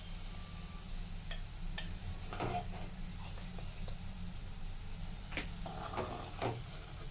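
Curry leaves frying in a pan as they are stirred, a low steady sizzle with scattered scraping and clinking of the spoon, faint and close, with no one talking.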